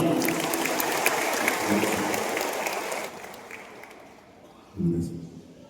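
A crowd at a church anniversary gathering applauds loudly for about three seconds, then the clapping fades to quiet before a voice speaks briefly near the end.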